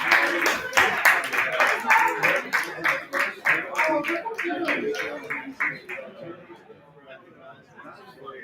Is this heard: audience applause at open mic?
yes